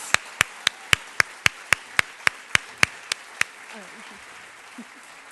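Claps for women standing on stage at a writers' series evening: about a dozen sharp, evenly spaced claps ring out in steady rhythm, then stop, leaving a quiet room with faint stirring.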